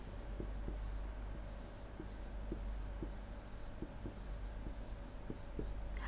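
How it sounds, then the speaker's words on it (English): Chalk or marker scratching across a board in a lecture on optical communication ray theory, a steady run of short strokes and taps close by over a faint room hum, with no talking. "So, I am writing this here."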